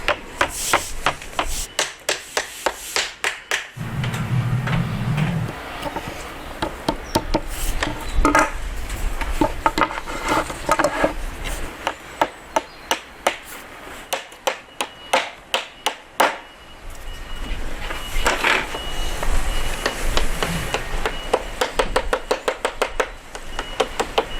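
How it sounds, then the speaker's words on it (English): Lead flashing being flattened and bent with a block on a building extension, heard as many sharp, irregular knocks and taps, some in quick bursts, over a steady background, with no talking. "Flatten that out with my block. 20mm bend in the top. Bend this bit over."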